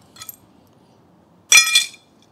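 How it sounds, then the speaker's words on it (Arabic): A faint glassy clink is followed by one sharp, loud crash of breaking glass that scatters briefly before going quiet. "طبعا في ازاز اتكسر"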